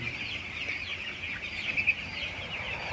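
A dense chorus of broiler chicks in a poultry farm peeps and chirps continuously, a high, busy chatter from many birds at once.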